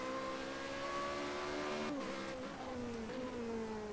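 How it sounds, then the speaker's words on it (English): Formula Renault race cars in Project Cars 2 scream along at full throttle, a downshift and engine dip midway with a brief tire squeal, surrounded by the drone of nearby rival cars. "Got 22 cars racing."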